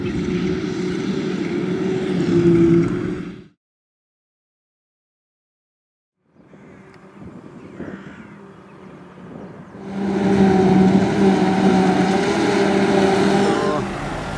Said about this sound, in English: This will be one of the farm tractors